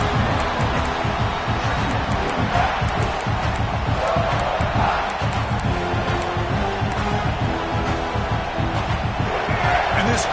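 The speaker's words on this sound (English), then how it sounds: "This crowd coming to life here, trying to help the defense get a stop." A football stadium crowd roars and cheers continuously during a game, a loud, dense wall of voices that swells as fans urge the defense to get a stop.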